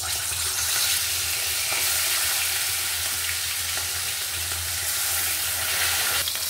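Fish fries in smoking-hot mustard oil, giving a loud, continuous close sizzle with scattered spits and crackles that holds steady throughout, no speech.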